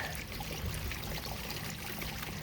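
Water pours steadily from a free public water spring next to a firehouse, a continuous close splashing stream with no pauses and no voices.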